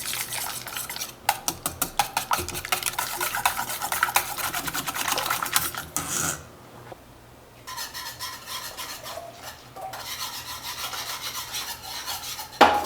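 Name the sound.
whisking cocoa powder and milk powder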